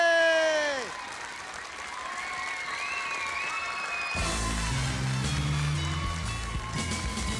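A studio audience at a television game show claps after a winner is announced, with a steady broadband patter of applause that swells up at the end, mixed with a short tonal jingle and some voices.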